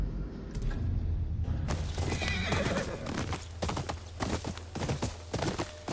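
A horse in the Ghost of Yotei video game neighs loudly, then its hooves clip-clop in a quick irregular rhythm, close and clear with no talk.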